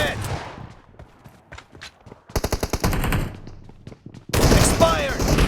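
Bursts of S12K shotgun fire in PUBG Mobile ring out in quick clustered volleys, with sharp repeated blasts between quieter stretches and a dense loud barrage at the end; game voice callouts can be heard.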